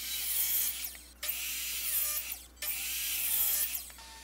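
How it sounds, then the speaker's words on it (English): A Dremel rotary tool cuts through the excess end of a bolt on a custom bed frame, loud high-pitched grinding in three long bursts with brief pauses between them. "I started using my Dremel to cut the excess bolt off"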